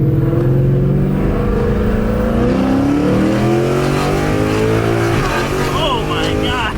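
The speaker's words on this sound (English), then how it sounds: "give her a little second gear hit." Ford Mustang with a manual gearbox pulling hard in second gear, engine note climbing steadily and loudly with a brief dip near the end, while excited voices talk over the roar.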